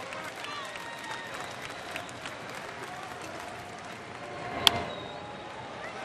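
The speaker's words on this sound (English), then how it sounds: "An anxious crowd here at Miller Park" Anxious baseball crowd at Miller Park on a Monday night, a steady distant murmur of fans with scattered claps and one sharp crack near the end, under faint background chatter.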